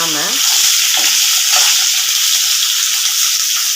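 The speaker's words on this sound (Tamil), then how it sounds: "லைட்டாக அப்படியே கிண்டி விடணும்," Egg and brinjal curry frying in a pan while being gently stirred, a loud steady sizzle throughout with faint scrapes of the spoon.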